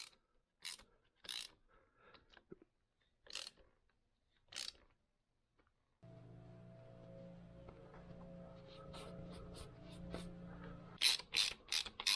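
Greased thread tap cutting metric 14 by 1.5 threads into metal on a 2008 Kawasaki KFX450R, a steady close grinding with ratcheting clicks, preceded by several sharp separate knocks.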